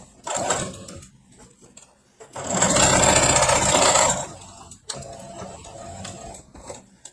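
A sewing machine joins uneven fabric scraps: short mechanical whirring bursts, with one longer loud run of rapid stitching in the middle, close and clear.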